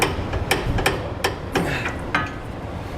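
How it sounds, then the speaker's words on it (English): Sharp metallic clicks and knocks from work on a CURT Class V XD trailer hitch on a 2018 Ram 3500, with bolts tightened using a 22mm socket. Six or so distinct, fairly loud strikes land at uneven intervals. "tighten everything down and then torque it to the specifications and the instructions. We're using a 22mm socket"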